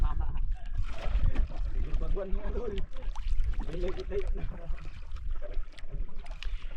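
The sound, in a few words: paddling a small fishing boat with an oar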